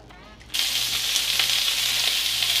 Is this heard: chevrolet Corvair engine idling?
no